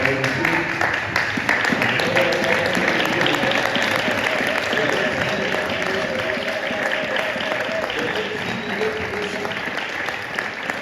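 A church congregation at a Sunday service applauds, a dense, sustained clapping from a large crowd that holds steady and loud throughout, with a few voices mixed in.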